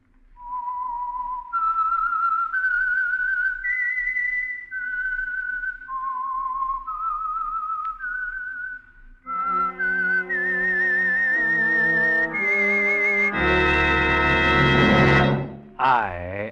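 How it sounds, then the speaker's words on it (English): A lone whistler performs the melodic theme of the Signal Oil radio program The Whistler, clear sustained notes rising and falling, with a brief orchestral swell toward the end. "the signal to listen for is this whistle that identifies the Signal Oil program"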